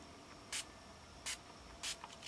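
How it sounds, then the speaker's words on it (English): A spray bottle spritzing liquid onto a card, three short crisp hissing pumps in a quiet room, close and alone. "I'm then going to spritz again"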